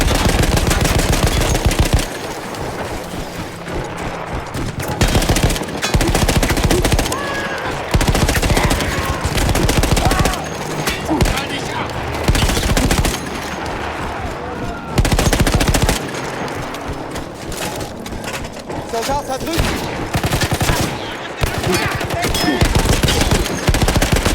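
Sustained machine-gun fire from a manned World War I gun in Battlefield 1, loud rapid bursts repeating across the whole stretch with only brief pauses between volleys.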